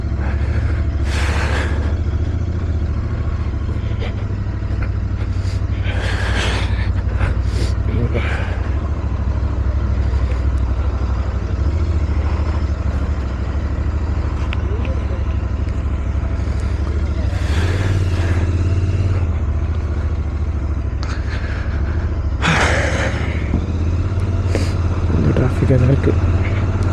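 Road traffic in Chennai streams past during a ride to a petrol station: a constant engine rumble with occasional nearby vehicles swelling and passing, while a voice talks over it.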